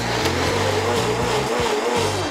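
A Vitamix high-speed blender whirs steadily and loudly while blending hot potato, leek and purple corn chowder, its motor drone wavering slightly in pitch.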